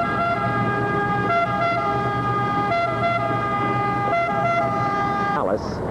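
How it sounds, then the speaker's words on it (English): A police siren in an Italian town wails steadily with a two-tone rise and fall, loud and close, then sweeps sharply downward near the end as it passes, over constant street traffic. "Here comes a local policia."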